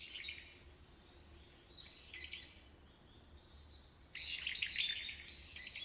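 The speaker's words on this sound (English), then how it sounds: "I know there's a bird over there." Bird chirps in Metal Gear Solid 3 jungle gameplay: faint, scattered high calls in short bursts, louder near the end, over a low steady ambient bed with no talking.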